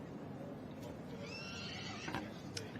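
Horses, filly foals, at a livestock show main ring, with a distant whinny rising over steady crowd and arena murmur, faint and far off.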